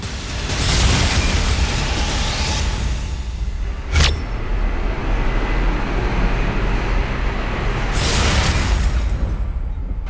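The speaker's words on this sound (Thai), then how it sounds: "พอเราเปิดหัวแก๊สปุ๊บมันก็ระเบิด" A gas stove explodes as it is lit in a kitchen, a sharp, sudden blast punching through a steady roaring background, standing out briefly and loudly once before the rumble continues.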